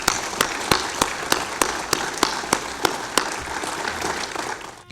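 Applause from a crowd, a steady wash of many hands clapping with sharp individual claps standing out, loud and close, with no talk over it.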